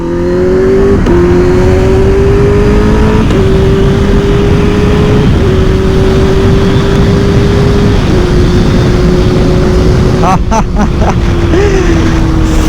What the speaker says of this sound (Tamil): இந்த எக்ஸாஸ்டோட நாய்ஸ் எப்படி இருக்குது அப்படிங்கிறத மட்டும் அப்படியே கேளுங்களேன்